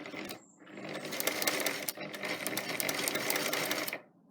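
A sewing machine stitches a straight line along a bag handle, a fast close mechanical whirr that starts after a brief pause, stops for a moment near the middle, then runs steadily before cutting off.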